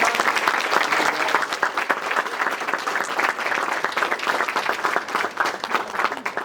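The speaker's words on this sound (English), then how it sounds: "let's give a big round of applause for Soneca" An audience applauds a jiu-jitsu guest, Soneca, with dense, continuous clapping that stays loud and even throughout, close and filling the room.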